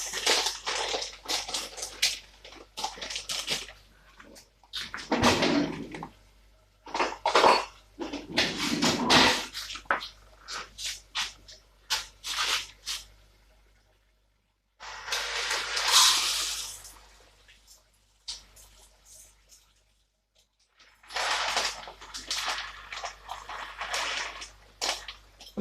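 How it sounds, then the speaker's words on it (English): White rice being washed in water for an aubergine stew meal, heard as close bursts of gritty crunching, swishing and sloshing of grains in a pot, broken by quiet pauses, with no talking. "Right, I'm going to wash my rice."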